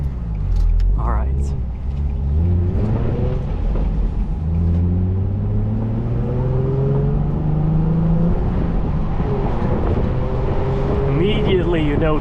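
A Nissan 350Z (Fairlady Z) roadster driving with the roof down, its engine note rising and falling through gears under steady, loud wind rush, with some talk mixed in.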